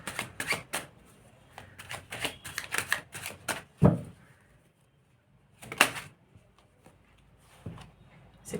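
A Tarot of the Divine card deck is shuffled close up in a quiet room: bursts of crisp riffling and slapping cards in quick clusters, a firmer knock partway through, then sparse further shuffles.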